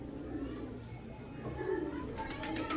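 Breeding pigeons in a loft give low, rolling coos that carry steadily through a noisy background, with no clear pauses between calls.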